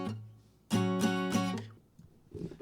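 Guitar chord strummed once and left to ring for about a second before fading and being damped, with a faint scrape at the end and no voices.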